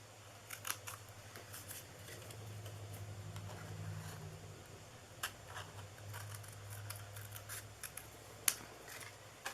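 Scissors snip through paper while cutting out a reindeer ear shape for a Christmas candy cane treat holder craft, with quiet, close, irregular cuts spread across a low room hum.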